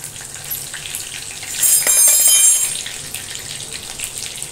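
Curry leaves hitting hot oil with cumin seeds in a pan, a sharp crackling sizzle that swells briefly and then settles into a steady low frying hiss.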